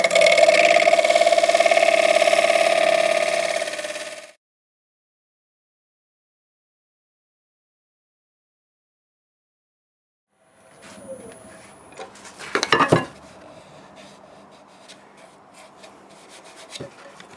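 A wood lathe taking light finishing cuts on a wild cherry bowl. A steady whirring rub sounds first, then silence, then the lathe returns with scraping, rasping contact and a few sharp louder scrapes.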